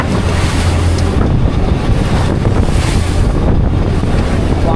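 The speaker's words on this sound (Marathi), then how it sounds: "एवढा वारा सुटला आहे आणि लाटा पण मोठमोठ्या आहेत" A fishing boat out for pomfret rides large storm waves, with strong wind roaring and buffeting the microphone in a constant, loud wash of surf and gusts.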